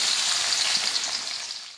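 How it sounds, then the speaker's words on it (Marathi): Onion frying in oil for a spicy North Indian chole masala, a steady, close hiss of sizzling that holds throughout and fades slightly at the end, with no talking. "आपण कांदा व्यवस्थित तळून घेणार आहोत"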